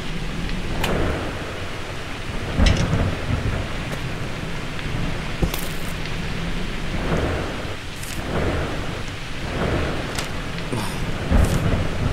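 A thunderstorm rolls through the Roblox game Night Shift: heavy, steady rain hisses throughout, with several sharp thunder cracks and rumbles scattered across it, loud and close.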